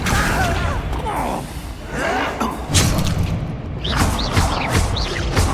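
Spells are cast in the Hogwarts Legacy video game, with swooping magical whooshes and thudding impacts repeating over a dense, loud bed of game sound.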